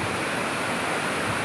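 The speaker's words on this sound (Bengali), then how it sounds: "এখানে আসার পরে খালি নদীরই আওয়াজ পাচ্ছি।" A river in Bhutan flowing between mountains, a steady broadband rush of water heard close and continuous, with no voices.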